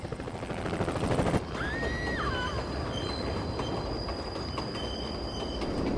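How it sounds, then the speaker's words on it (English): A train rolls along in the Spider-Man 2 video game, loud and close with a steady rumbling roar, a high metallic wheel squeal rising briefly near the start and a faint sustained whine over the clatter. "we've moved the train back for the game section"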